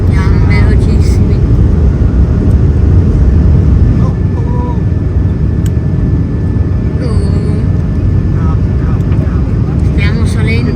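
An airliner's engines roar loudly as it accelerates down the runway for takeoff, a steady, close rumble from inside the cabin with brief faint voices over it.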